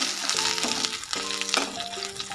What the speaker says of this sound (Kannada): ಆ ಧನಿಯಾ ಬೀಜ ಸ್ವಲ್ಪ ಫ್ರೈ ಆಗ್ತಾಯಿದ್ದಂಗೆ ಅದಕ್ಕೆ ಬ್ಯಾಡಗಿ ಮೆಣಸಿನ್ಕಾಯಿ, ಖಾರದ ಮೆಣಸಿನ್ಕಾಯಿ ಹಾಕ್ತಾ ಸ್ವಲ್ಪ 1-2 ರೌಂಡ್ ತಿರುಗಿಸಿ